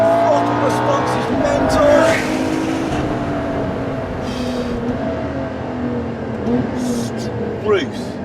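A LaFerrari accelerates hard through the gears, its engine note rising and dropping through several shifts with loud cabin roar and tire noise, while someone talks over it.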